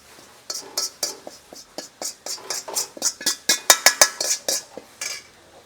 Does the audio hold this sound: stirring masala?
yes